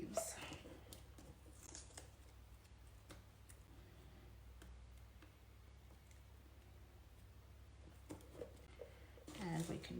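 Scissors snipping paper leaves for a Christmas card, close and quiet, with a few scattered cuts over a low steady background hum.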